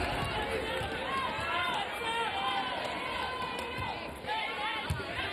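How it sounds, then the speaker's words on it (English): Volleyball arena crowd on its feet at a tense match point, a broad roar of cheering and chatter in a large hall, fairly distant and sustained, with a commentator talking over it. "Crowd on their feet."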